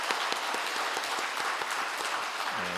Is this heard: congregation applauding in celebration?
yes